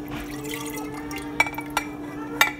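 Liquid is poured into glass jars for a children's crystal-growing project, giving a soft steady trickle with a low hum underneath and a few sharp clinks of glass.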